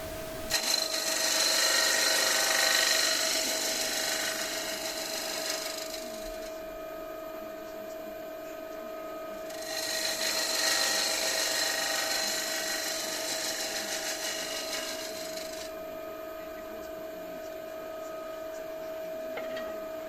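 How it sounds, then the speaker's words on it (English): A 3/8 spindle gouge cuts a concave face in wood spinning on a lathe, making a steady, loud hissing scrape in two long passes over the constant hum of the lathe motor. "I'm using a 3/8 spindle gouge here to just do the concave face and get a decent finish"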